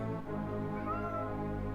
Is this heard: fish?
no